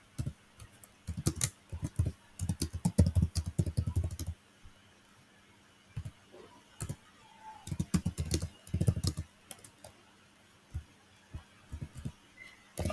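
Close, quiet typing on a computer keyboard comes in irregular clusters of rapid key clicks, separated by short pauses and scattered single taps.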